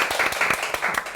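Brief burst of audience applause opening a church lecture session, dense overlapping clapping from a crowd, fairly loud and steady throughout.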